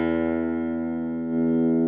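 An electric guitar plays through a captured Silvertone Twin 12 amp profile on a ToneX, holding one sustained, bright, slightly driven chord that rings steadily and swells a little near the end, close and alone.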